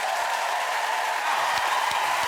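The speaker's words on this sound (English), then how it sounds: "Keep the applause going for those musicians." Studio audience applause welcoming a singer on a television chat show, a steady dense wash of clapping that holds evenly throughout with no voices over it.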